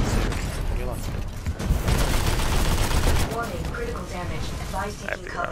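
Gunfire from the Titanfall 2 video game rattling on continuously in dense bursts amid heavy in-game noise, loud and close, with rapid chattering shots toward the end.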